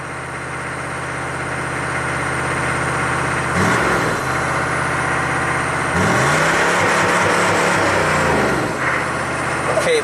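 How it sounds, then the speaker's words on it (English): Chevy 6.5 turbo diesel engine idling loudly up close, then blipped twice with the revs rising, hanging high briefly and dropping back down, with someone talking over it. "I'm just barely touching the accelerator like this. See, it hangs and then comes back."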